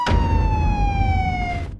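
An air raid alarm siren in Ukraine holds a steady, slowly falling wail, loud and continuous for nearly two seconds before cutting off, with no voices over it.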